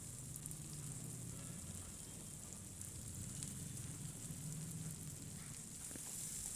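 Onions and two medium tomatoes sizzling in a pan for an idli and dosa chutney, a faint, steady frying hiss that carries on without a break and stays low throughout, no talking.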